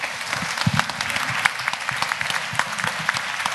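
Audience applause in a university lecture amphitheatre at a Lyon dyslexia awareness day, dense, continuous clapping from many hands filling the hall at an even level, without talk over it.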